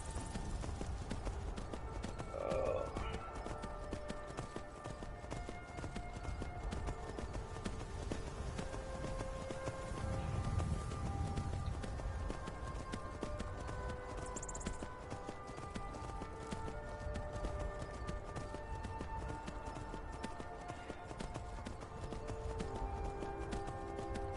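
Horse hooves clip-clop steadily along in the Skyrim video game, a continuous rhythmic trot under ambient game sound and faint background music, with no talking over it.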